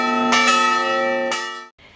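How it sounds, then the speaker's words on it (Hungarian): Church bells ringing out after a commemorative ceremony in Hungary, loud and resonant with a sustained hum, the strikes landing close together early on and once more before the ringing cuts off abruptly. "Az ünnepség után a résztvevők harangszóra sétáltak át a Patasics szoborhoz"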